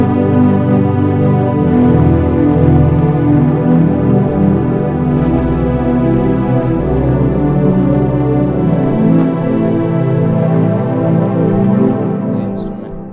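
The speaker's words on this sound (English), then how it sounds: "The instrument I used for this was citrus violin ensemble 2." A sustained string pad from the Citrus violin ensemble 2 instrument in FL Studio, drenched in reverb, holding layered legato chords for a chillout trance track, loud and smooth, then fading out at the end.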